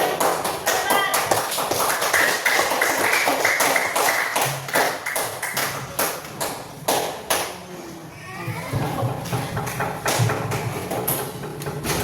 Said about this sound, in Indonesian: Ya, tepuk tangan Pak Manjam,